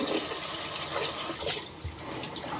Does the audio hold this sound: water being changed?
yes